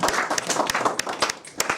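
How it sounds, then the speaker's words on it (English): A small audience at a Margaret Thatcher birthday weekend event applauds a guest speaker with a brief patter of scattered hand claps. "please give Donal Blaney a very big round of applause"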